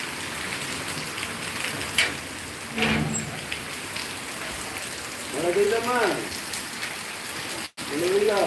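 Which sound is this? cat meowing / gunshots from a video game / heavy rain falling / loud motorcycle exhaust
heavy rain falling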